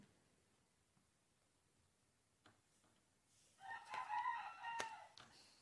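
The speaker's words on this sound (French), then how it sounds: "vous entendez mon coq, enfin, un des coqs" A rooster crows once in the background, a drawn-out cock-a-doodle-doo rising from a quiet setting partway through, moderately loud and alone.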